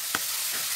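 Radish curry (mulo chochchori) with ground mustard fries in oil, giving a soft, continuous sizzle with one faint click, heard alone and fairly quiet.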